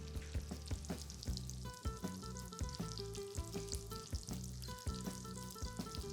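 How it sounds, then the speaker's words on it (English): Panko-crusted fish sizzles in a hot pan, a soft, continuous crackle heard quietly under steady, tonal background music with a regular beat. "There's the sizzle."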